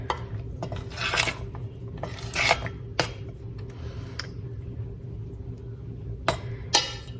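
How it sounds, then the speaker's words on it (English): Chocolate chunks being stirred into brownie batter in a mixing bowl, with a few scattered clinks and scrapes of a utensil against the bowl over a low steady background hum. "Incorporate the chocolate chunks."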